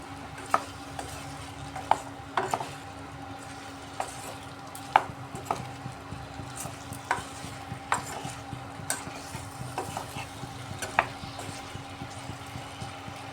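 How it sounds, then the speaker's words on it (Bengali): Spices, kohlrabi and potato are stirred in a pan over low heat, with a soft frying hiss beneath repeated spatula scrapes and light metallic clinks at an irregular rhythm, fairly quiet and close. "এবার গ্যাসের আঁচটা কম করে সবজির সাথে মশলাটা ভালোভাবে কষিয়ে নিচ্ছি"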